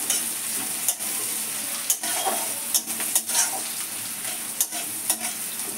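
Onions fry in oil that is not yet fully hot, giving a soft, steady sizzle broken by repeated scraping stirs of a spatula every second or so, moderately close.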